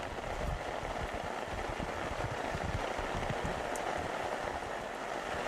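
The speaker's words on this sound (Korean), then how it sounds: "빗방울이 떨어지고 바람이 불고 시냇물이 흘러간다." Rain falling steadily with dense raindrop patter over a continuous watery rush like a flowing stream, even and unbroken throughout, with no voices.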